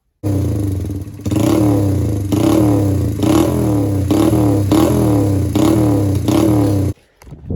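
A 1979 Honda XR80 small single-cylinder engine that had sat for a year runs close by, with a steady idle broken by repeated short throttle blips that rise and fall before it cuts out.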